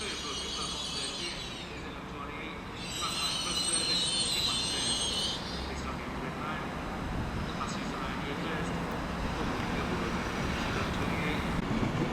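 An Avanti West Coast train from London Euston pulls into Manchester Piccadilly station, a steady rumble with mechanical clanks and squeals building over about twelve seconds, fairly close.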